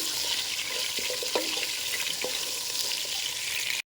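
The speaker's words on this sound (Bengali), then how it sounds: "আলুগুলাও আমি হালকা করে ভেজে নিব" Potatoes lightly frying in oil for chicken biryani give off a steady, close sizzle with faint crackles and a few soft utensil taps, then cut off abruptly near the end.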